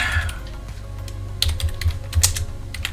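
A computer keyboard being typed on in quick, uneven bursts of sharp clicks, close and clear over a low background hum.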